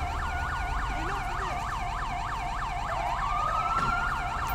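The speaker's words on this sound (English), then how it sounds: "This guy's gonna keep his siren on." A police car siren in GTA 5 cycles rapidly up and down in a steady, repeating pattern, loud and continuous, with a second rising tone briefly sweeping in.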